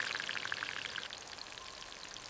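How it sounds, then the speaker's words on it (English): Tuna sizzling in a miniature kitchen pan, a faint, fine crackling hiss of scattered pops that thins out toward the end, quiet and alone. "Now the cooking begins. Sizzle! Listen to that."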